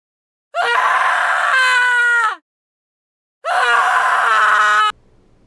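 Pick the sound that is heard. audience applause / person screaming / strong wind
person screaming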